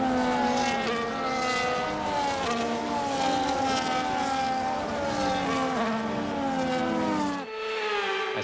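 Formula 1 cars on a formation lap in the F1 25 racing game, a dense layered engine whine with many pitches rising and falling as cars pass, continuous and loud before a brief dip near the end.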